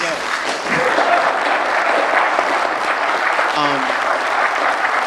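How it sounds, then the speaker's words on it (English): Applause from a panel audience fills the room steadily for about five seconds, a dense wash of clapping hands with faint voices mixed in. "can we give them a round of applause, please?"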